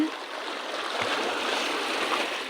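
Sea waves at Roca Blanca beach in Los Abrigos, Tenerife make a steady, broad rushing wash of surf, close and continuous, with no voices.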